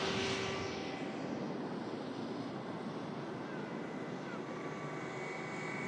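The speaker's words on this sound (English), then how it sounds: "321neo about to touch down." A Jet2 Airbus A321neo on final approach at Manchester Airport makes a distant, steady engine roar that slowly fades, with a faint whine on top.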